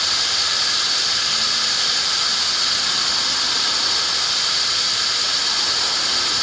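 Compressed air venting from the tanks of a homemade submarine through small solenoid valves, heard as a constant loud, close hiss with a faint squealing edge that holds steady throughout.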